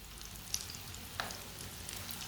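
Kababs sizzle steadily in a hot pan, a continuous loud frying hiss with two brief clinks and scrapes as they are flipped over, no voices.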